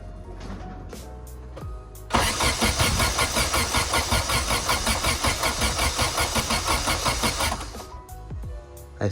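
B18B-swapped car engine cranking with a few starter bursts, then catching and running roughly with a pulsing idle for several seconds before cutting off, loud and close.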